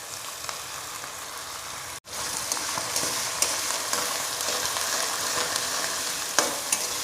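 Crushed masala and tomato fry steadily in a karahi, a loud continuous sizzle with occasional stirring scrapes, briefly cut off near the start before resuming.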